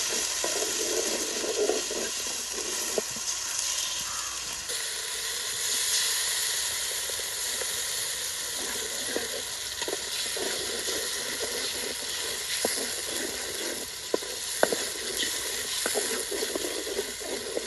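Cinnamon and onions sizzle steadily in hot oil while a chicken dish is cooked outdoors, a loud continuous frying hiss with occasional clicks and stirring knocks throughout, with no talking.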